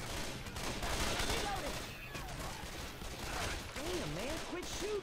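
Gunfire in Left 4 Dead 2 crackles in rapid, scattered bursts and volleys at moderate loudness, mixed with game voices and other in-game sounds.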